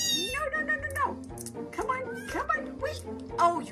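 A kitten meows repeatedly and insistently while being bottle fed, several loud, close, drawn-out cries in quick succession, some rising into whiny squeals.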